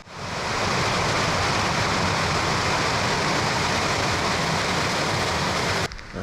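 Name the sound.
noisy river flowing beside campsite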